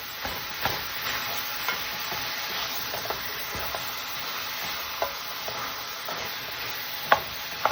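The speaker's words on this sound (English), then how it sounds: "Let's add the hamburger to it." Ground hamburger beef frying with jarred garlic in a pan on medium-high heat, a steady close sizzle with intermittent scraping and tapping of a spoon stirring, no talk.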